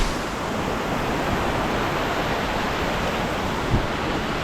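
A monsoon-swollen mountain stream at a trek water crossing in the Valley of Flowers roars with a constant, dense rush of churning water, loud and close, with no voices.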